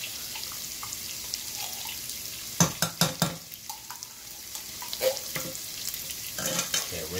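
Tomato paste stirred and spread with a spoon in a hot pot for seafood chowder, with soft sizzling and a run of sharp scraping clatters in the middle, close up and without talk.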